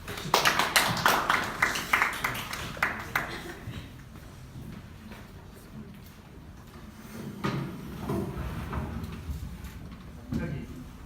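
Applause for a Buddhist monk speaker at a university lecture on Buddhism and cognitive science, dense and loud for the first few seconds, then fading into scattered claps and low room noise with a brief renewed burst later.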